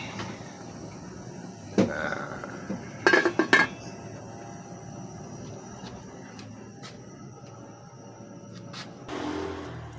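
A metal lid clanks onto a pot of fish tinola, a few quick close clinks over low background rumble, then quieter room noise.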